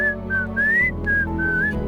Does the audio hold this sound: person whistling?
yes